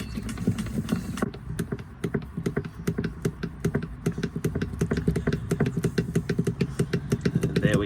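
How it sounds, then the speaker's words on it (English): A hand pump drawing CVT transmission fluid on a Subaru Impreza during a service, giving a steady run of rapid, evenly spaced clicking strokes with a low mechanical hum underneath, close and moderately loud, with no talking. "Again, I'm just using my hand pump here."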